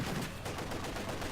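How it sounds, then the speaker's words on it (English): A heavy machine gun fires a rapid, continuous burst in a Company of Heroes 2 battle, giving dense rattling gunfire at moderate loudness. "the heavy machine gun finishes it off"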